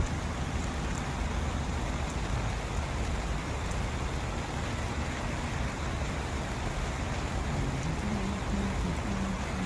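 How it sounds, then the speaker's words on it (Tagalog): Steady rain patters down in Dubai Design District in a constant wash of hiss and small drops, fairly soft, with a faint low rumble of passing traffic beneath. "Pumapatak na naman ang ulan."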